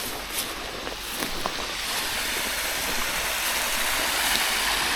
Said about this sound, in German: auf jeden Fall höre ich jetzt massiv Wasser